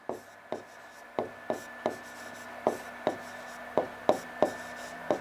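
A pen writes on paper close up, a string of about a dozen short scratchy strokes and taps falling in an uneven rhythm over a low steady hum, with no one speaking.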